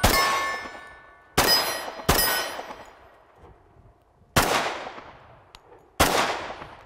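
Five .45 ACP pistol shots with Berry's 185-grain bullets strike steel targets outdoors. Each sharp crack carries a bright metallic ring that decays over about a second, and the shots are irregularly spaced.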